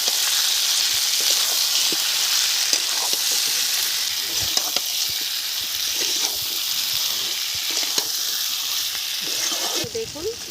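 Potatoes with turmeric, chili powder and salt sizzle steadily in a pan for a village-style chela fish curry, a continuous close hiss with faint stirring clicks throughout.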